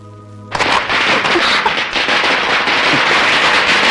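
Firecrackers bursting in a scene from the Tamil film Thevar Magan: after half a second of quiet, a loud, continuous crackling barrage of rapid pops fills the rest of the clip, with no voices.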